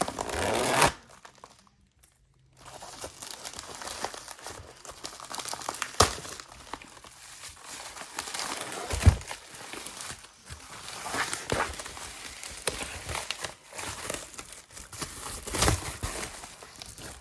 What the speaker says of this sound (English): So let's go ahead and pull it out of this FedEx wrapping. Pull this little tab.